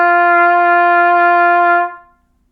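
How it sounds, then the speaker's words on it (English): A trumpet holds a single open high G with no valves pressed, a steady sustained tone lasting nearly two seconds before cutting off cleanly, played alone and close. "The next note that you see is the note right above F, and we play that one as G."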